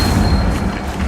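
An Incendio fire spell cast in Hogwarts Legacy, a loud, dense, roaring burst of flame that fills the whole moment with a deep rumbling boom and no pause.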